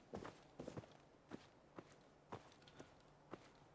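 Creature footsteps padding through a Fallout 4 game level, a series of soft, separate treads spaced irregularly, fairly faint and slightly distant, with no talking over them.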